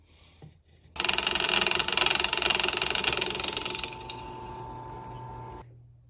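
A power drill whines loudly and steadily as it bores holes into a metal knife bolster, then drops to a lower, steadier grinding hum before cutting off.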